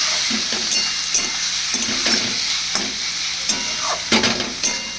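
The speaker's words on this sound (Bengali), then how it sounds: "এবার দিয়ে দিলাম হলুদ। এবার মিষ্টিটা একটু পরে দেবো, কারণ আগে এগুলো ভালো করে নাড়াচাড়া করে নিই।" A spoon stirs a potol vorta mixture with turmeric and salt in an oiled pan, with steady frying sizzle and hiss underneath and repeated scraping strokes and light clinks against the metal, close and loud.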